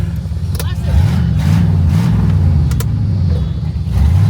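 Car doing a one-wheel peel with smoking tailpipes at a car show, a loud, deep engine rumble that swells and holds as it revs, with faint voices in the background.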